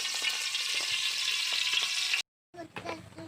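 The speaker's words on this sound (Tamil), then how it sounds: "இப்போ எண்ணெய் வந்து நல்லா கொதிச்சாச்சு." Oil frying and sizzling in a kadai while cooking kappa (tapioca) biryani, a dense steady hiss close up for about two seconds, then a short silence and a quieter burst of sizzling.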